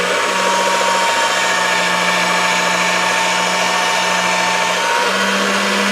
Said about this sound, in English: maybe I ought to run this through the pasta machine again